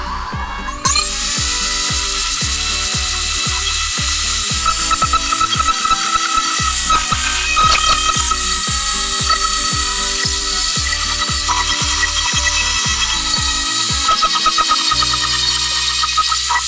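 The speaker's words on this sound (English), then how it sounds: "After the wood filler is hardened, it's time to sand it down." A power sander works hardened wood filler, running loud and steady with a dense buzzing hum and rapid rhythmic pulsing throughout, close up with no talking.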